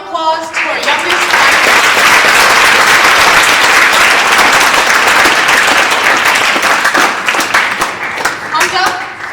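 Loud, close applause from the audience at a speech competition finals, a dense steady burst of many hands clapping that swells quickly and holds for several seconds before thinning out at the end.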